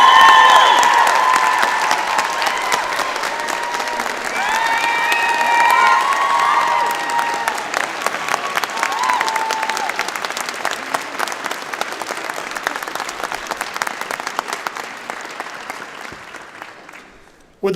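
A large audience at a graduation convocation claps steadily and loudly, the applause slowly thinning and fading out toward the end.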